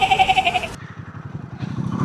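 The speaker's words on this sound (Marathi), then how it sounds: "हे मेंढ्या आहेत, बकरी नाही." Roadside sheep bleat in a loud, wavering call, followed by a low, rumbling hum.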